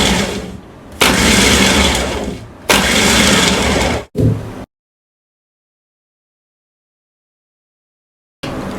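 A food processor (food chopper) motor runs in short pulses: three loud close whirring bursts of a second or two each, a brief fourth burst, a long silence, then another burst starting.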